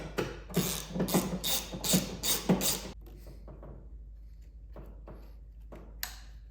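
A ratchet clicks in quick bursts while tightening the main bolt during a Roush cold air intake install on a car, followed by a quieter pause with a few scattered taps and clanks.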